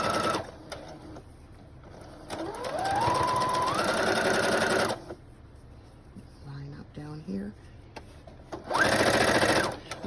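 A sewing machine stitches a seam on a fabric book bag in two steady whirring runs, loud and close, with a pause of quieter handling between them.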